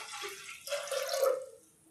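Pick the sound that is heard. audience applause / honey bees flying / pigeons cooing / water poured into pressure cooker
water poured into pressure cooker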